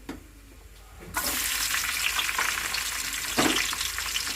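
Onions drop into hot oil already crackling with tempering seeds for a bitter gourd curry. A sudden loud sizzle bursts in after a second of quiet and keeps frying steadily, with a brief extra crackle near the end.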